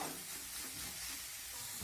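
Onion, ginger, garlic and chili sizzle in a hot oiled pan while being stirred, giving a dense, even hiss with soft scraping throughout, close and alone with no talking.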